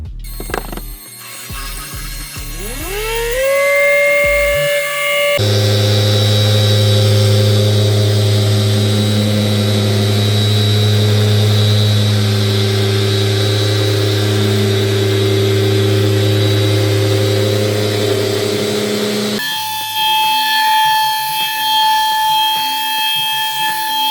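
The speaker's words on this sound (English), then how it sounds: "Makita PO6000, which is gear driven dual action polisher" Makita PO6000 gear-driven dual action polisher working on a car's paintwork, a loud, steady motor whine and drone that runs without a break after a brief spin-up.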